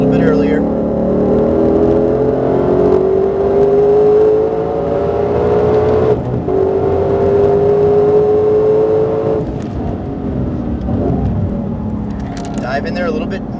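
A Ford GT sports car drives hard on a race track at Exotics Racing, its engine droning loudly and steadily with rising and falling pitch as it pulls through corners, while an instructor talks over it throughout.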